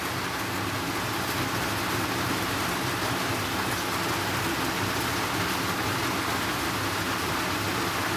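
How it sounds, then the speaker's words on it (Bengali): Heavy rain pours outside in a dense, constant roar, steady and fairly loud throughout with no voices. "বাইরে হচ্ছে ঝমঝমিয়ে বৃষ্টি,"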